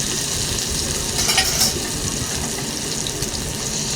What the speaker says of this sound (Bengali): সবার আগে উচ্ছেটা লাল লাল করে ভেজে নেব